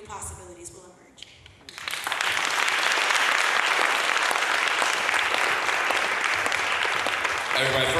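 Audience applause for the panelists at the final panel of a Palestine teach-in swells after a few seconds of quieter room sound and continues as a loud, dense, sustained ovation.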